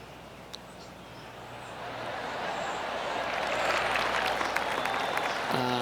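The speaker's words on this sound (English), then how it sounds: "That deserves a golf clap." Polite golf crowd applause in the video game PGA TOUR 2K25 swells gradually and holds steady, a soft continuous patter of many hands clapping at a distance.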